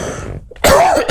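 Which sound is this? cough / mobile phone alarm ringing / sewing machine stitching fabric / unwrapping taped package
cough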